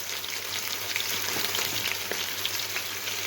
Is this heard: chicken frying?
yes